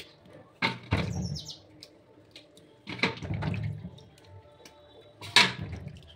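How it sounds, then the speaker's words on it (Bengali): Tomatoes are washed by hand in water, with three separate close splashing and sloshing bursts separated by quieter pauses. "দেখো টমেটোগুলো সব ধুয়ে নিচ্ছি ভালো করে, একটু ভিজিয়ে রাখি।"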